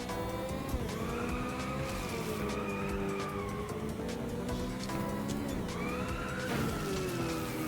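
Racing car drifting in Inertial Drift with trail braking, its engine rising and falling in tone while tires squeal steadily through long slides, continuous and fairly quiet, with no talk.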